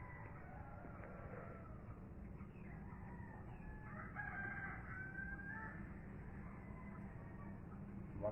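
A rooster crows twice among other fowl, its calls rising over a low steady background hum, with clucking heard nearby on a farm.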